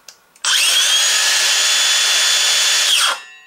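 A Makita XSH03 18V brushless cordless 6-1/2-inch circular saw spins up sharply to a loud, steady high whine, runs alone for a few seconds, then winds down quickly as the electric brake stops the blade.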